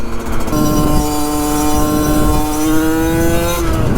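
A Yamaha 50cc moped engine with a badly tuned carburetor revs loud and close in a sustained, buzzing high-pitched drone that rises slightly and holds for several seconds.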